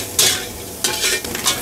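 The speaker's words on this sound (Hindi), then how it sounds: "अब फ्लेम हाई करके आप इसे अच्छे से मिक्स करते रहिए।" Prawns fried rice stir-fried over a high flame, bursts of loud sizzling and tossing as the rice is mixed vigorously in a hot pan.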